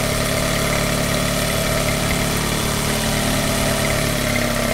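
An old Yamaha 9.9 outboard motor idles steadily after tuning, a loud, close, continuous engine drone with constant rough vibration and no talk.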